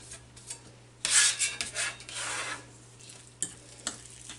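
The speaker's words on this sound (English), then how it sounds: "Stir it up just a little bit." A spoon stirs and scrapes through egg salad with mayonnaise and pickle in a bowl, soft intermittent smearing and rubbing strokes, close and fairly quiet, with no talking.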